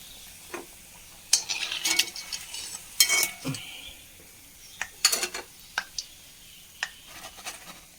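Fried cauliflower scooped out of hot oil in a home kitchen, faint frying under scattered metallic clinks and scrapes of a ladle against the pan, several sharp taps spread over the span.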